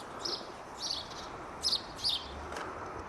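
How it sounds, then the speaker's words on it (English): Birds chirping outdoors, four or five short, high tweets spaced across a few seconds, faint and moderately distant over a quiet background hiss. "Birds."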